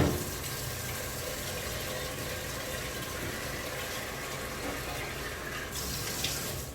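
Tap water runs steadily into a pot or sink to collect fresh water for boiling, a continuous close hiss-like gush with no talk, briefly brightening near the end.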